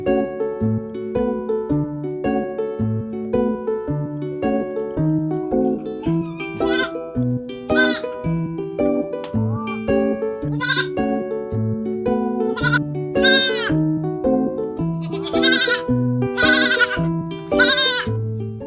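Goats bleating on a small farm, including two with diarrhea being treated, repeated loud nearby bleats overlapping one another across the whole stretch, some long and wavering, with no talk.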